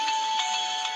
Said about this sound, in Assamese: নীলৰ ফোন